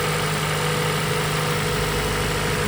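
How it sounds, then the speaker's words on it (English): A 1990 Honda Civic with a B20/B16 engine swap idles continuously with a low, even rumble and constant hum, no voices present. "All right, can't tell, she's idling good."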